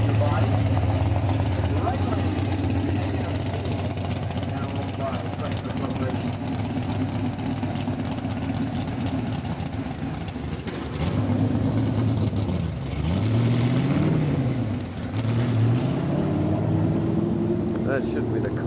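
A Hemi-powered Dodge Challenger drag car at NHRA Englishtown roars with a loud, steady engine drone that swoops and revs near the end, while a voice talks over the din.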